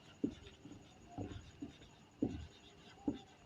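Chalk or marker strokes on a board while working a trigonometry example in a classroom, several separate scratchy strokes in an irregular rhythm, close and fairly quiet, with no talking.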